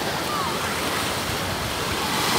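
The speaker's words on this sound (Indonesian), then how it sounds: "Ombaknya gede banget ya." Big ocean waves roll in at Stanley beach, a loud, continuous wash of surf mixed with wind buffeting the microphone.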